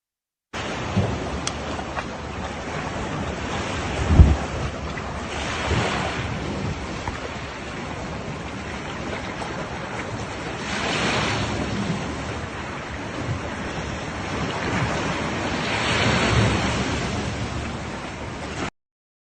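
Sea waves washing onto the shore at Kerch, a steady rolling surf with slow surges of breaking water, mixed with gusty wind buffeting the microphone and one brief thump near the start.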